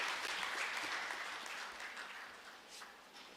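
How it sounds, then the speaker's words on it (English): Clapping from an audience in an auditorium at an inaugural function, a fairly faint, dense patter that slowly tapers off toward the end. "Request everybody to please clap loudly."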